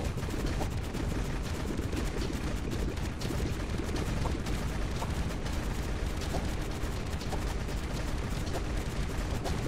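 Explosions in the God Of Weapons video game from an enlarged-range explosive punch build, a dense and continuous barrage of rapid popping blasts, loud and unbroken throughout.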